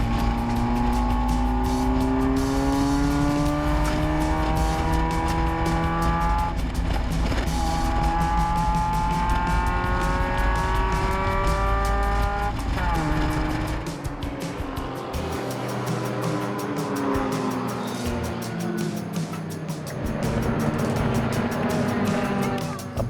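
A Toyota Corolla race car works around the track in an endurance race, its engine howling loud through repeated rising gear pulls with sharp shifts between them, then easing back and fading as the car moves off.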